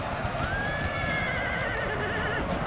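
A horse whinnies in a Napoleonic Total War video game battle, one drawn-out neigh lasting about two seconds over dense, continuous battle din with hoof clatter.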